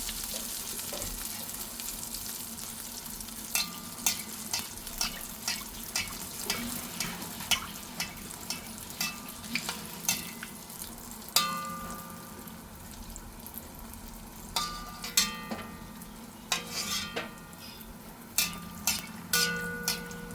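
Mutta surka egg batter fries in hot oil with a constant bubbling sizzle, broken by repeated sharp crackles and spits of oil at uneven intervals, close and fairly loud.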